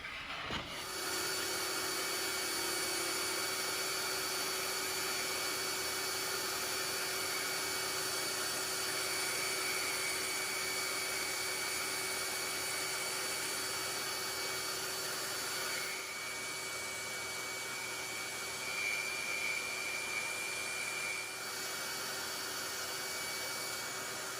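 A bandsaw cutting a wooden board for a standing desk riser, running with a steady, close, loud mechanical hum and whir that holds almost unchanged throughout, with only small dips as the blade works through the wood.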